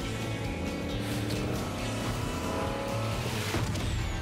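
A car driving in Fortnite with engine drone and tire squeal, steady and close, the motor hum pulsing under sliding skids throughout.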